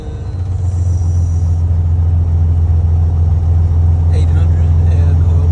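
Cessna T210N aircraft engine idling on the ground at about 800 RPM, a loud, steady low rumble that holds constant throughout, with a brief higher whine near the end.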